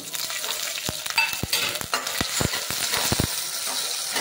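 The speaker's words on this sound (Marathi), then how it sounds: "जिऱ्यानंतर आपण कापलेली हिरवी मिरची तेलात घालून घेऊ।" Chopped green chilies frying in hot oil with mustard seeds and cumin, giving a steady close sizzle broken by sharp clicks and pops as a utensil stirs the pan.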